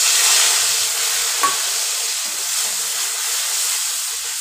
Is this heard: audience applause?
no